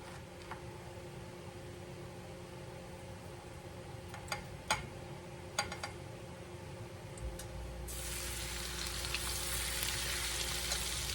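Flour-coated eggplant slices fry in hot oil, a soft steady sizzle with a few sharp ticks and pops, then a sudden louder surge of hiss as fresh slices drop in, heard alone and fairly close.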